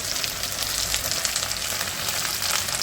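Spices fried with turmeric in a pan give a constant, close sizzle with crackling bubbles throughout, with no voices over it.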